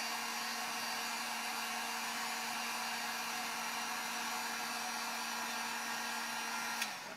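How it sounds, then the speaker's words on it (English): Heat gun blowing continuously on a field hockey stick to loosen glue inside, a steady loud whooshing hum with a constant tone that holds for several seconds before a slight drop at the end. "the other method of taking it off, which is with a paint stripper or heat gun. We heat the outside of it."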